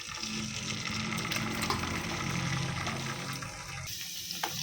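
Garlic frying in plenty of oil in a kadai, a steady crackling sizzle close by that holds evenly, then briefly thins and drops near the end, with no one speaking.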